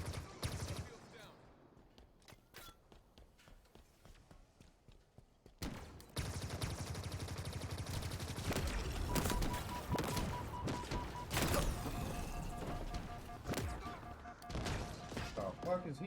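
Rapid bursts of gunfire from a Halo multiplayer match, starting sparse and faint, then becoming a dense, loud, continuous volley with crashes and sharp hits from about six seconds on. Players talk over the fighting.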